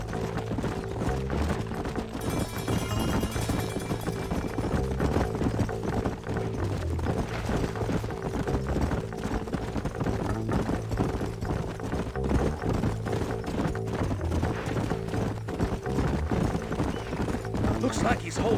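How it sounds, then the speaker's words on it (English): Horses gallop in Red Dead Redemption, with a steady, close clip-clop of hooves running throughout, a whinny now and then, and music and voices layered on top. "Let's hold up a minute and find a spot for our horses."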